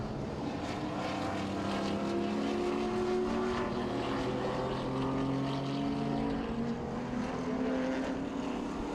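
Vintage modified race cars thunder around the Oswego Speedway track. Several engines overlap in a constant, loud drone whose pitch rises and falls as the cars pass, with no voices over it.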